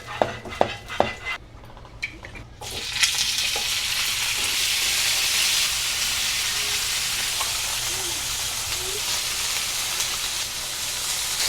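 Chicken tenders sizzle steadily in a hot pan, a loud continuous frying hiss after a few opening clinks of utensils, with no talking.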